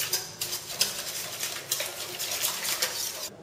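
A spoon or whisk scrapes and clinks rhythmically against a bowl while stirring aubergine caviar with added oil into a mayonnaise-like emulsion, with quick, steady, close strokes and no talking.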